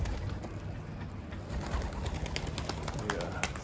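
White racing pigeons coo softly inside a loft, their low calls coming in over a steady wash of background noise.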